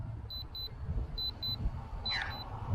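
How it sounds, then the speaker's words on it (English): Short electronic beeps from a flight-tracking app on a phone, several quick tones in an irregular pattern with one brief chirp sweep, fairly faint over a low rumbling background. "So getting all these beeps happening now."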